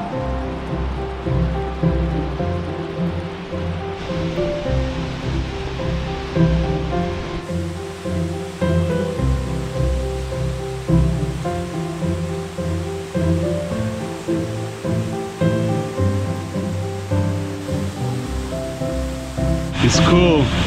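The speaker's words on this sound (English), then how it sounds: "Now sounds like we're close, starting to roar." A continuous roar of rushing, falling water from a waterfall among giant boulders in a Washington State national forest fills the scene, loud and steady, with a brief shift in tone near the end.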